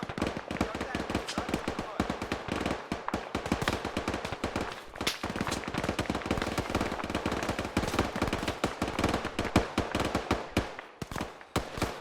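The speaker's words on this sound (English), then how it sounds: "Oh, shooting has started." Dense gunfire in an Arma 3 battle against Taliban fighters at a camp: rapid bursts of automatic rifle and machine-gun fire crackle nonstop, layered near and far for the whole stretch.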